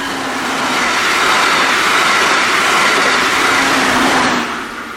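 Brightline passenger train passing on the FEC railroad in morning rain, a steady loud rumble and rush of railcars going by close, holding level before easing off at the end.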